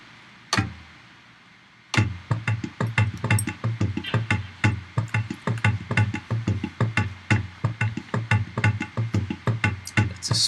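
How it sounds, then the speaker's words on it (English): A drum machine plays an Indian tabla loop: a quick, steady pattern of bright taps over deeper resonant thumps, following a single hit and a short pause, repeating closely without speech. "set to an Indian tabla loop"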